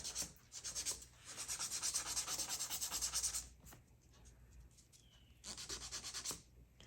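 Steady rasping strokes of a file on dip-powder fingernails, back and forth in long bursts, close and fairly quiet, with brief pauses between passes.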